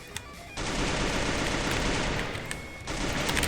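Sustained automatic gunfire in the Free Fire battle royale game, a loud rattling burst that starts abruptly, dips briefly near the end, then resumes, with no speech over it.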